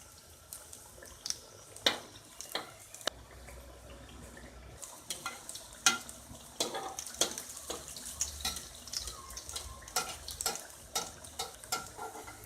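Samosas frying in ghee in a pan, a soft bubbling and sizzling bed broken by sharp clicks and scrapes as the pieces are turned, close and fairly quiet.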